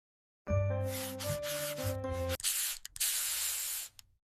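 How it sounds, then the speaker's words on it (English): Air freshener spray: a tonal musical note first, then a loud close hiss from an aerosol can in two bursts, the second longer and steady before cutting off. "I spray air freshener."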